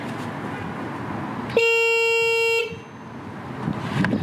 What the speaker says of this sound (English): usually I'll just give the horn a tap just to make sure like I still got battery